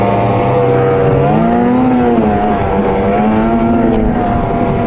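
An Arctic Cat Riot 8000 snowmobile runs along a snowy trail, its engine droning loud and steady with rising and falling pitch throughout, close and continuous.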